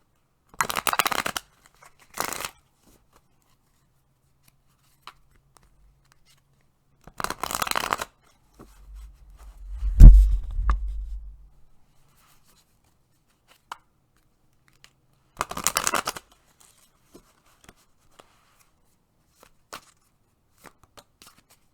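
Tarot cards are shuffled close by in several short riffling bursts spread across a quiet room, with a brief low thump in the middle.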